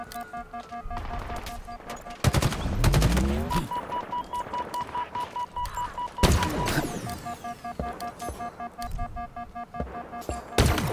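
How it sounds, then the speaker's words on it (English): Bursts of battle rifle fire in the first-person shooter Halo Infinite, loud clustered shots with heavy impacts and blasts mixed among game effects and a steady tone. "for jackals, I'm just going to use the battle rifle"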